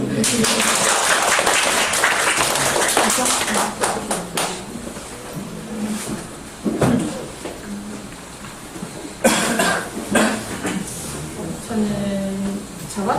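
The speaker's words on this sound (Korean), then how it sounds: "박수." An audience at a staff training session for a surgical clinic claps in a burst of applause at the start, which thins into scattered claps, coughs and people talking, with a few brief claps returning later.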